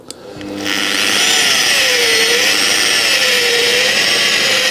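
Slow-speed power polisher rubbing down the bumper of a 2016 facelift salvage car, a steady close whirring drone that starts after a brief pause and holds loud and even, with a faint wavering tone riding over it.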